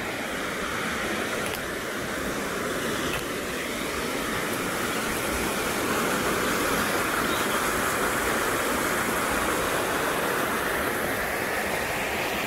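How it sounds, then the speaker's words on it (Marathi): A small waterfall pours over a check dam on a stream in a Konkan village near Malvan, making a steady, dense rush of water that stays loud and even with no talk. "व्हाळाच्या वरती त्यांनी बांध केलं त्यामुळे सुंदर असं धबधबा तयार झाला."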